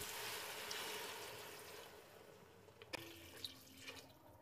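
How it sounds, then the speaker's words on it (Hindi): Water poured into a pot of dal chana gosht, a quiet steady stream that fades out, followed by a sharp clink and a few faint drips. "अब इसमें पानी डाल देते हैं"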